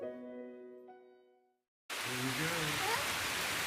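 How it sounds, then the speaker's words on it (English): Steady wash of rain falling outdoors, starting abruptly after a stretch of harmonic tone and continuing as a dense, even hiss, with faint tonal sounds passing over it. "We're gonna go out there in the rain."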